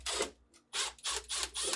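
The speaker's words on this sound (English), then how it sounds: "With the slide fully closed, remove the 2 screws holding it in place using a Phillips head screwdriver." A Phillips screwdriver turns out screws from the meat/deli pan slide of a GE refrigerator, giving a few short, close scraping and clicking bursts. They are quiet and heard alone.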